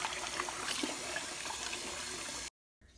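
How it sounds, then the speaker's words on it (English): Water swished around in a basin to dissolve hair conditioner before a wig is soaked: steady close sloshing and splashing that stops suddenly, followed by a short silence and a faint return of sound. "And I'm going to swish it around and dissolve the conditioner there."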